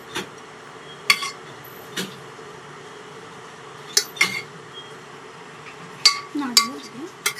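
A metal pot of mutton biryani gets its lid set on, giving a few separate sharp clanks and clinks spread out over several seconds, close and bright against a quiet background hum.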